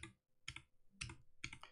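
Computer keyboard keys are pressed in Emacs, four separate clacky keystrokes spaced irregularly, close and fairly quiet with no talking.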